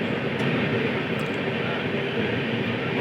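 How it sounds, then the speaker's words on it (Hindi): Passenger train running on rails between Azamgarh and Khorasan Road, a steady broad rumble and rattle of wheels and carriages heard from inside, continuous and fairly loud with no talk. "तो फिलहाल हमारी ट्रेन निकल चुकी है आजमगढ़ से"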